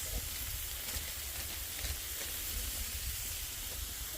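Udon noodles cook on the hot side of a griddle, giving off a steady, even sizzle and hiss of steam that runs continuously with no talking.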